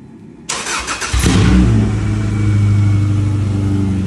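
Nearby, a Subaru postal car's engine cranks and fires with no muffler, then revs up and settles into a loud, raw, rumbling idle.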